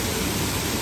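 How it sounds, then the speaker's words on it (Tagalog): A waterfall at Universal Orlando Resort in Florida gives a brief, steady burst of dense rushing hiss, fairly loud and even throughout. "Waterfall."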